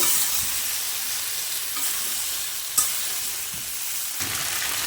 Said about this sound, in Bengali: ডিমটা দিয়ে একটু কষিয়ে নেব।